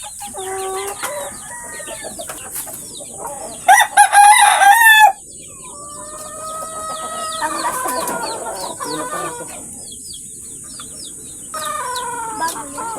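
Chickens cluck and crow close by, with a rooster's loud crow midway and chicks peeping among hens' clucks over a steady high hiss.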